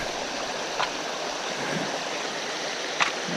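A creek in the Hurricane Creek Wilderness rushes steadily in summer, with a close, continuous broadband wash of flowing water and a couple of faint splashes.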